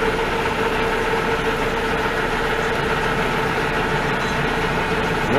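A milling machine's power feed drives steadily under heavy torque while turning a copper hammer handle, giving a continuous, even mechanical hum with a strong steady tone, close and loud, with no pauses and no talk.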